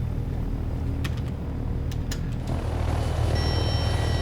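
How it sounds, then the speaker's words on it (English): A helicopter in the Take On Helicopters video game gives off a steady, low rotor and engine rumble that stays even throughout, with a few faint clicks partway through. "There's a helicopter down there."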